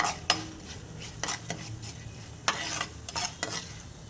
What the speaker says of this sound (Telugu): ఈ తాలింపును కొంచెం ఫ్రై అవ్వనిద్దామండి